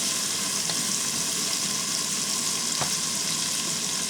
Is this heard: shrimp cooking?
yes